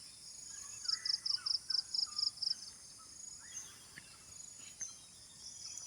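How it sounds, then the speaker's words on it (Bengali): A bird near a forest gives a quick run of about eight evenly spaced call notes, then softer scattered chirps follow over a faint insect hum in a quiet outdoor setting. No voices. "আপনার সাউন্ড, পাখির শব্দটা শুনুন, দারুণ লাগবে।"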